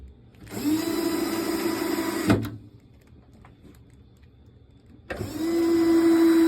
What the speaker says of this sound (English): Put in the rest of the screws.